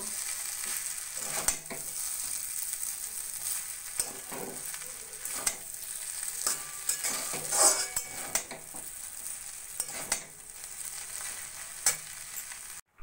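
A spoon stirs vegetable hakka noodles with tomato sauce in a sizzling pan, making a steady frying hiss broken by regular scraping clinks against the metal.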